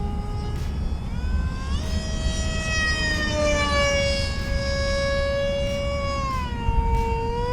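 An SU-35 fighter jet, a 735mm EPO foam RC model, flies after a hand launch with a loud, steady whine whose pitch sweeps up and down as the electric motor throttles, close and continuous with no talk.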